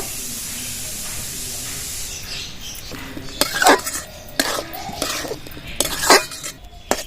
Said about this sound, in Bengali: এবার খুলে নেবো ঢাকনাটা